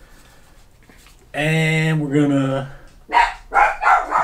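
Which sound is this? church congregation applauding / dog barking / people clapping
dog barking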